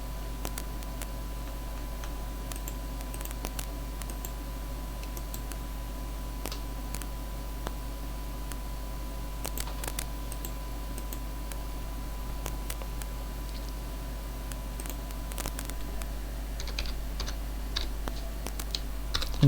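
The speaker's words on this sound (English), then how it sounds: "You can type it" Soft, faint typing on a computer keyboard while entering a plot command in SageMath, scattered key clicks over a steady low hum throughout.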